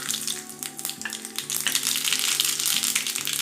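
A small amount of mustard seeds hits hot oil for a spicy kara chutney, giving a close, bright sizzle dotted with quick popping crackles that grows louder and denser over a few seconds.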